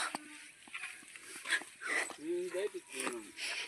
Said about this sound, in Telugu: ఈ కుక్క పిల్ల బిల్ల ఉంది క్యూట్గా, కాళ్ళమ్మడి తిరుగుతూ